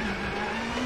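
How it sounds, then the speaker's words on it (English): Steady droning engine of a rally car in WRC 8 suffering a transmission issue, a sustained tonal hum with a slowly rising whine, brief and constant. "It changes the engine sound pretty much"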